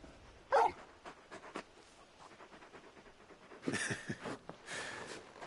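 Torgal, the big dog from the video game Final Fantasy XVI, panting in quick rhythmic breaths, close and fairly quiet, with a couple of louder whimpering or yipping sounds breaking in.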